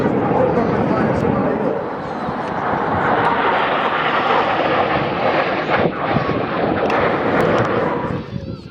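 A Eurofighter Typhoon or de Havilland Vampire jet roars past at the Wales National Airshow, a loud, sustained broadband engine rush that swells and fades slightly over several seconds, heard outdoors at close range.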